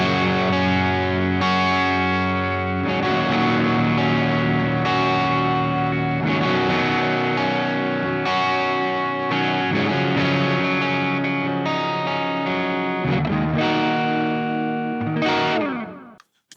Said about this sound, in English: So this is like a plexi mid-gain type sound starting on the neck pickup.